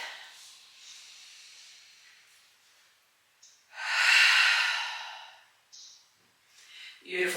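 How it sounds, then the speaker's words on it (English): Deep breathing during a slow yoga flow: a soft drawn-out inhale, a quiet pause, then a strong, close, hissing exhale lasting over a second, followed by lighter breaths. "Take a moment here with a nice big deep breath."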